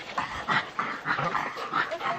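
A dog whimpers and yips repeatedly at close range in a rhythmic run of short, breathy cries, moderately loud with no speech.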